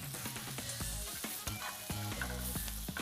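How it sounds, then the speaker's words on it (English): Greens sizzle in a pan with onion and garlic, a steady close frying hiss broken by regular scraping stirs, with no talk. "We're going to let that saute for about a minute or two, get kind of soft till the onions are translucent"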